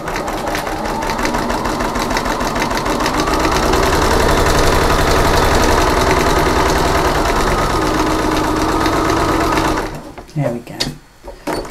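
A sewing machine runs loud and steady while stitching around a fabric folding bowl, its fast mechanical whirring continuing for about ten seconds. It then stops, followed by a brief spoken remark and some handling clatter.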